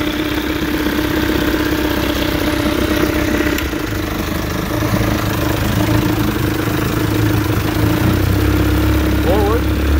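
1962 Evinrude Fastwin 18hp outboard motor running in a water test tank, a steady, loud, close idling drone with clatter that continues throughout.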